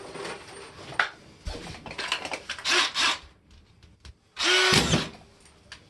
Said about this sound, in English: Throw a couple screws in just to tack it up